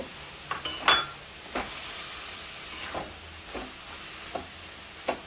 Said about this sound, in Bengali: সেই নারকেল কোড়াটা দিয়ে একটু মিশিয়ে নেব